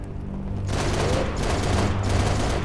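Gunfire in the video game Halo MCC crackles in a dense, sustained burst of rapid shots that keeps going steadily throughout, loud and close with no talk.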